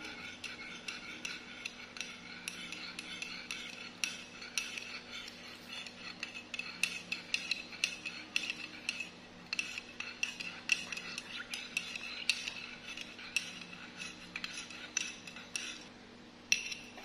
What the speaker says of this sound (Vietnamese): Khuấy cốc thứ hai.